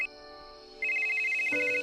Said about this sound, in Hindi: तभी उसकी वाइफ का फोन आया।